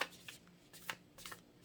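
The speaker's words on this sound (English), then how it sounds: "while I'm shuffling this deck here" A tarot card deck being shuffled by hand, soft riffling bursts in three or four short uneven strokes, close but quiet with no talking.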